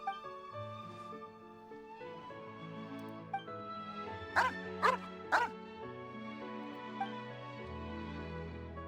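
A dog barking in a video game, three sharp barks in quick succession in the middle, set over steady game music with sustained tones.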